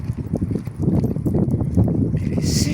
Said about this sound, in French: Parce qu'en plus, il y a du vent.